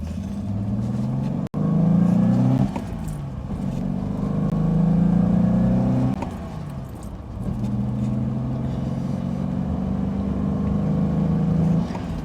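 A Reliant Scimitar engine revs up through several gears, pitch climbing then dropping at each shift, close and steady with no talking.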